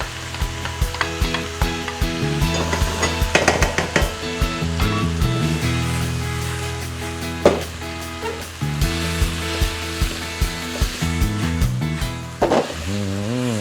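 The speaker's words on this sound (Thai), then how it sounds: "เราผัดให้ใบสลบ เนื้อปูร้อนอีกหน่อยก่อน" Crab meat and holy basil leaves stir-fried in a wok over high heat, a steady loud sizzle broken by repeated scraping and tossing strokes of the spatula.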